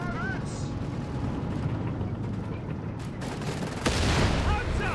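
Heavy tank cannon shots from a Black Prince in the WWII strategy game Company of Heroes 3, booming amid dense battlefield din with a strong blast near the end, over continuous rumble and background noise.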